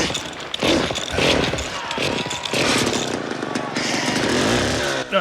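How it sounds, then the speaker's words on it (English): Chainsaw roaring in a film fight scene from Mad Max Beyond Thunderdome, loud buzzing engine revving in bursts with short dips, mixed with crashing action sounds and soundtrack. "That is, of course, until he acquires a fucking chainsaw."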